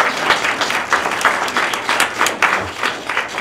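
A short round of applause from an audience, fairly close, with loose clapping rhythms that pulse unevenly throughout.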